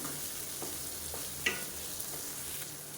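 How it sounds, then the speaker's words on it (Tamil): Snake gourd stir-fries on high flame with a soft, continuous sizzle and a few light scrapes of a spatula stirring the pan, close and fairly quiet, with no voices. "அடுப்பு வந்து நல்லா ஹை ஃப்ளேமில் வச்சுக்கிட்டு நல்லா சுருண்டு வர அளவுக்கு கிளறி விட்டுக்கலாம்"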